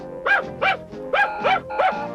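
A cartoon dog gives five quick, tonal barks in an uneven rhythm, close and clear. The barks sound bright and animated, with a brief pause in the middle of the run.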